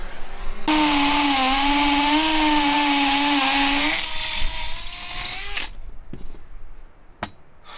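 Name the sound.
power drill boring a hole through wood for a cabin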